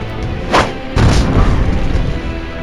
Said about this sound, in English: Let's move up 1 spot and throw a frag grenade.